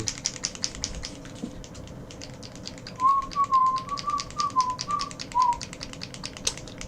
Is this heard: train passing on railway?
no